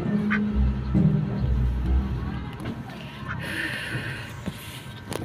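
A duck quacks and honks a few times close by, outdoors among other fowl. The calls come in short bursts over a rough, noisy background, and there is some murmured talk.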